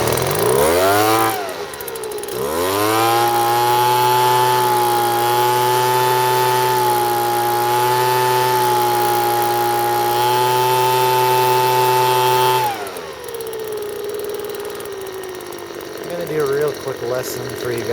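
A two-stroke leaf blower engine under repair revs up and holds a loud, steady high-end whine for about ten seconds, then drops back to a rougher, quieter idle.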